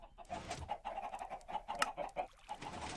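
Minecraft chickens clucking in the game, a steady string of short mid-pitched clucks and squawks that repeat quickly at moderate volume.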